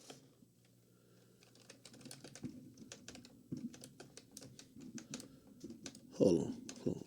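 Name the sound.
typing on computer keyboard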